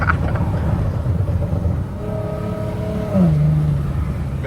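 A rear-wheel-drive Infiniti G37 with an exhaust leak accelerates hard, heard from inside the car as a steady loud engine drone whose pitch rises and then drops as the gear changes.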